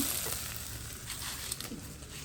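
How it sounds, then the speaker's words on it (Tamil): Onions with chicken curry masala sautéing in a pan for a home-made chicken curry, a steady close sizzle and crackle of frying with faint stirring scrapes, no voices. "இதுவும் சேர்ந்து வெங்காயத்தோட வதங்கட்டும்"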